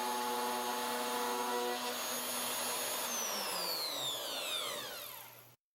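A power tool cuts a dado in plywood along a clamped straight edge guide, giving a loud, steady, close high whine that winds down and falls silent near the end.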